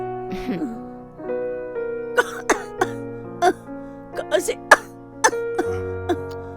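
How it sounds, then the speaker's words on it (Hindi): A sick woman with a mild fever coughs repeatedly in harsh, irregular bursts during a home medical visit, over a steady background hum. "खांसी नहीं रुक रही है।"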